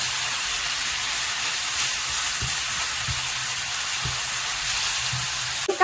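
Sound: stir-frying dried tofu skin in oil

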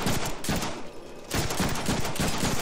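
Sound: gunshots in the Deadpool video game

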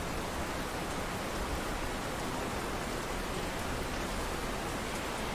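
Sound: rain in the video game Russian Fishing 4

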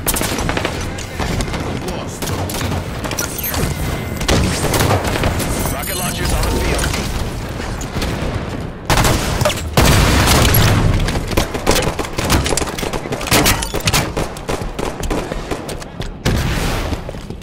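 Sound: rocket launcher explosions in the video game Halo 5

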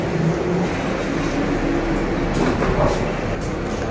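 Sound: metro train

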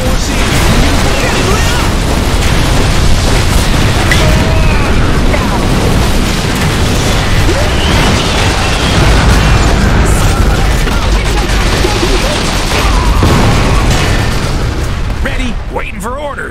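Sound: artillery barrage explosions in the video game Iron Harvest

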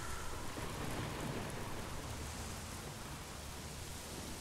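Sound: rain and thunderstorm in the video game Days Gone

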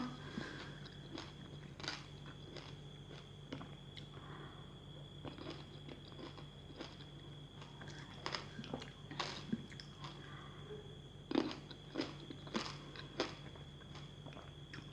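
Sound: biting and chewing crunchy sweet red grapes

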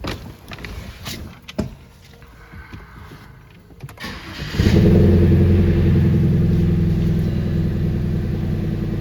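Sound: BMW 320i engine started and running

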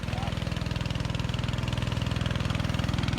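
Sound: engine of water pump pumping from fish pond

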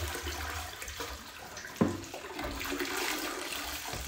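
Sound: dirty water poured out of Hoover carpet cleaner tank

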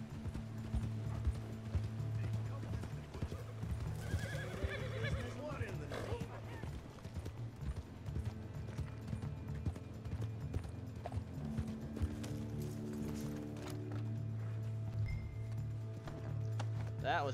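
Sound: horse neighing and hooves in video game Red Dead Online

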